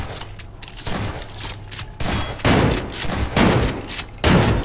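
Automatic gunfire from a gun in The Backrooms video game, rapid repeated bursts of shots in several volleys, loud and close, with no talking.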